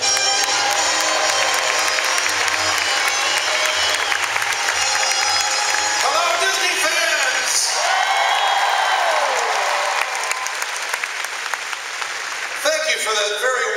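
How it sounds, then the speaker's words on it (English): A large convention crowd at the D23 Expo applauds and cheers to welcome the evening's host, a sustained roar of clapping and whoops with music playing underneath, fading slightly toward the end. "For that very warm applause."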